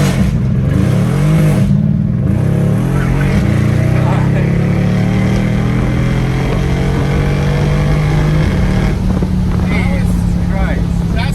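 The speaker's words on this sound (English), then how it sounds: "I'll just floor it from right here from a standstill, and it's just gonna spin" A Mercedes CLS63 AMG with about 700 horsepower is floored from a standstill, its engine roaring loud and steady as the pitch climbs through several gears while the tires spin, heard from inside the cabin.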